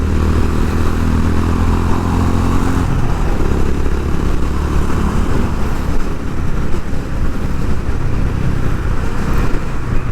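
A Honda H'ness CB350 motorcycle engine revs hard while riding, a loud, steady, throaty drone with rushing wind that rises in pitch and roughness partway through, with no voice over it.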